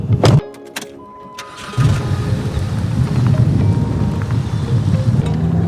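A car driving on the road in Napa, with a steady, loud rumble of engine and road noise after a short quieter stretch at the start.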